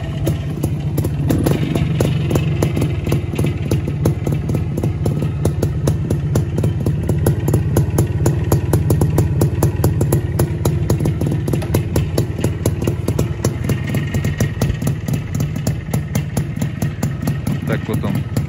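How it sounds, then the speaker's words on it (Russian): A Minsk motorcycle engine with 2,500 km on it idles steadily up close, giving a continuous burbling, grunting putter of rapid uneven pulses for the whole stretch, with no pauses. "Вот все почему-то эти мотоциклы издают такой характерный похрюкивающий звук."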